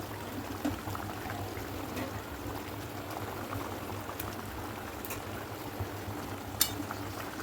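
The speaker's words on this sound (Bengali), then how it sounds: "একটা করে মাছগুলো আর মাছের ডিমগুলো আমি ঝোলে দিয়ে ফুটিয়ে নেবো" Rohu fish pieces and fish roe simmer in a thin Bengali fish curry, a quiet, continuous bubbling with occasional small clicks and pops.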